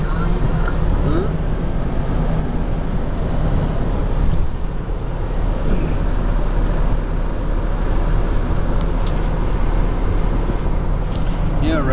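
Toyota riding along a highway at speed, a loud constant rumble of engine and road noise filling the cabin without letup.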